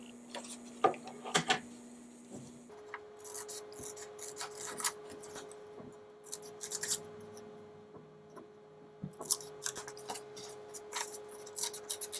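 Scissors snipping through paper to cut out owl eyes and a beak, a series of soft, irregular close-up cuts and rustles with quiet pauses between, plus a faint steady background tone.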